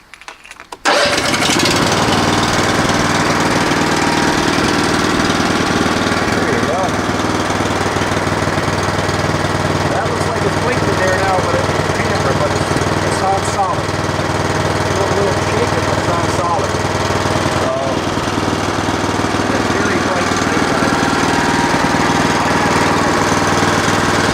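A brand-new Honda snow blower engine starts after a brief moment of quiet, then runs loud and steady without pause, its droning motor filling the whole stretch, close by.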